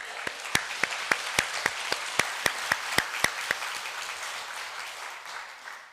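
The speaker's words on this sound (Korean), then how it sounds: "같이 박수 칠까요?" A church congregation claps during a Sunday worship service, a dense spread of hands under a sharp, steady rhythmic beat of about four claps per second that holds for most of the stretch, then loosens and fades toward the end.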